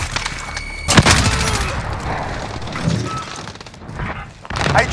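A grenade blast in Call of Duty: Modern Warfare with a sharp crack and splintering debris, followed by scattered battle noise, distant gunfire and muffled voices. A loud hit comes back near the end.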